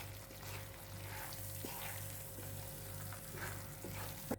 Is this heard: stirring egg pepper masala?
yes